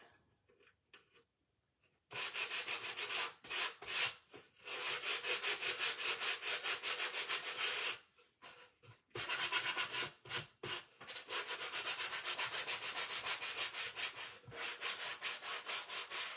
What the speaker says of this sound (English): I like to use a sanding block and then wrap my sandpaper around the sanding block